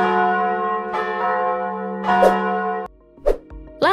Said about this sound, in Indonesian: Dibunyikannya lonceng tujuannya untuk memanggil para rahib berdoa.